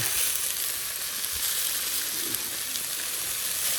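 New York strip steak searing on a Blackstone griddle, a steady, dense sizzle that holds at an even level throughout with no talking.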